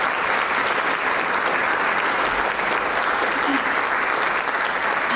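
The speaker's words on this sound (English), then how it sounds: "Let's give these amazing musicians another round of applause." Concert audience at AC Flora applauding piano and jazz musicians, loud, dense clapping that fills the room evenly from start to finish.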